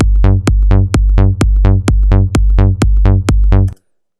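Melbourne bounce bassline pushed through overdrive and a saturator, with a kick drum landing on each note: eight loud, evenly spaced, punchy bass hits in a steady rhythm, then it cuts off into silence.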